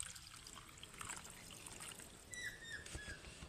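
Water trickles and pours into a cooking pot of hilsa fish curry after hands are washed, a soft, uneven dribbling stream heard close but quietly, with faint background clatter.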